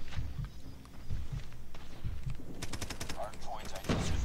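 Automatic AK rifle fire from the mobile shooter game Call of Duty Mobile, rapid bursts of sharp shots crackling at close range amid other battle noise, with a voice talking briefly near the end.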